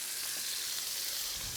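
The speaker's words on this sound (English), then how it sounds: "So we'll let that go and sizzle" A NY strip steak sizzles in a hot pan, a dense, steady hiss of frying with faint crackle throughout, close and alone.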